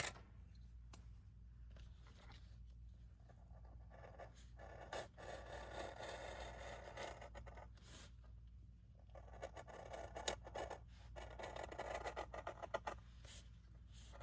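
Scissors snip through a paper background in a quiet, close series of irregular cuts and rustles, with no voices.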